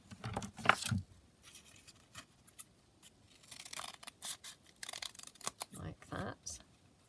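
Scissors snip through three stacked book-page sheets while a kite shape is cut out, giving irregular crisp cuts and paper rustles close by, with a person talking over parts of it.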